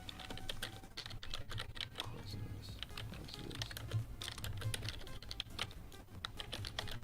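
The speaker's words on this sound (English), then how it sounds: "I just hear all the typing and got distracted" Quick, uneven clicking of fingers typing on a computer keyboard, close and fairly quiet, with rapid keystrokes in irregular bursts and no voices.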